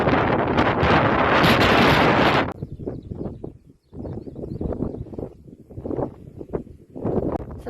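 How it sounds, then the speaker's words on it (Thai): Strong wind at a beach buffets the microphone with a loud, continuous roar for a couple of seconds, then eases into gusty, uneven rushes with surf-like noise underneath. "ลมมันแรง"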